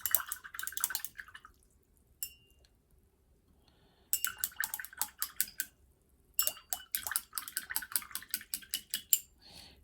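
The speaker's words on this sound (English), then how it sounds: "now I'm going to clean my brush." A paintbrush is rinsed in a container of water, giving bursts of quick clicking taps and light splashes against the vessel, separated by short quiet gaps, close and fairly crisp.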